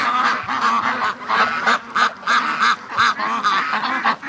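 Repeated loud honking from a goose near a free-range duck flock, a steady run of close, harsh calls coming about twice a second with no talk over them.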